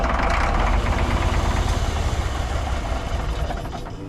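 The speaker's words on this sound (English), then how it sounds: "It's half going. I have 2 injectors I just don't think are shooting." A rescued cabover truck's diesel engine runs rough with two injectors not firing, a loud, close, uneven knocking idle that fades slightly toward the end.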